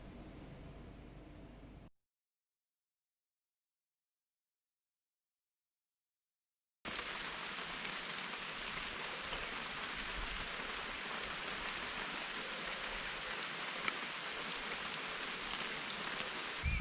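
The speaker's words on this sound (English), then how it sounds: "As soon as I get out of the house, it starts to rain." Steady rain falling outdoors, an even broadband hiss with faint scattered drops, heard alone and fairly quiet after a short burst of other noise and a stretch of silence.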